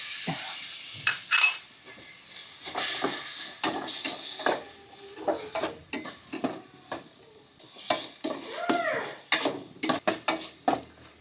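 Pork sautéing in a pan with spices: quiet sizzling broken by repeated scraping and clattering stirs of a utensil against the pan, irregular and fairly close.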